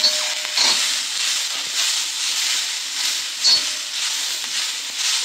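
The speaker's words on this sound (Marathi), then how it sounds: "आता त्याच्यामध्ये टोमॅटो मी ॲड करते आणि टोमॅटो सुद्धा कांद्याप्रमाणेच भाजून घेते" Tomatoes with garlic and ginger fry in a pan for an egg masala, a loud, close, continuous hiss and sizzle with faint stirring scrapes.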